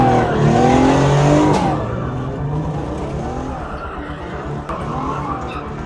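A Toyota JZX90 running and driving after two years off, its engine loud and close with a steady low drone, revving hard at first and then settling into a lower idle-like rumble while it moves.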